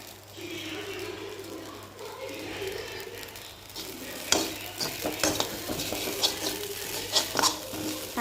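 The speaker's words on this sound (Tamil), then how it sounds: "நல்லா கலந்து விட்டுக்கோங்க சேர்த்து." Fine salt is stirred into food frying in a pan: a steady sizzle throughout, with scraping spoon strokes and light clinks growing more frequent in the second half, heard up close.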